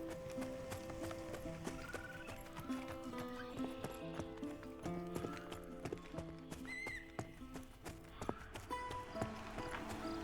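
In the video game Pantheon, a horse's hooves clip-clop in a steady galloping rhythm, joined by whinnies and neighs, quiet and a little distant, with a few faint game sounds layered over them.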